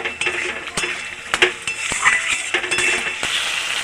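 Chopped tomatoes sautéing with spices in a pan for a meatless eggplant and moong dal dish, a soft sizzle under repeated sharp clinks and scrapes of a metal spatula against the pan, close by, no voices.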